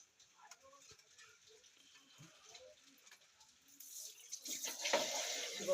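Water runs and splashes as a pet's feet are washed. It starts faint with scattered drips and then swells into a louder, steady gush from a tap near the end. A voice talks quietly over it.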